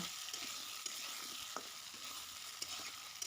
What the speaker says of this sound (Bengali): আলু আর পটলটিকে আরেকটু ভেজে নিচ্ছি